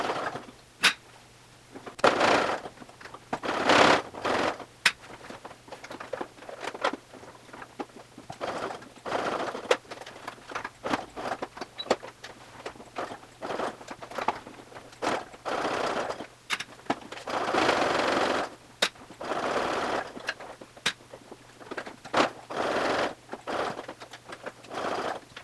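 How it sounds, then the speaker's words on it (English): A sewing machine stitches the last seam of a DIY waist bag in repeated rapid rattling bursts of varying length, separated by short pauses, with a low steady motor hum underneath. "Let's sew this last seam."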